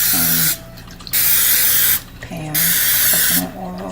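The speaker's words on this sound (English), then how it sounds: "I'm gonna go ahead and spray our muffin pan with some" Cooking spray hisses onto a muffin pan in three short bursts, each about half a second, spaced close together, while a person talks in between.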